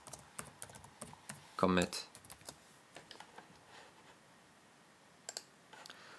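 Code is typed on a computer keyboard in quick irregular bursts of close, crisp key clicks, with a person speaking briefly over the tapping.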